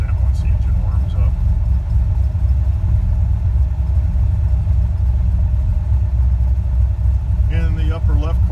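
A 600 hp engine fitted with Holley Sniper EFI idles through a cold start, a steady loud low rumble running throughout, with brief higher sounds near the end.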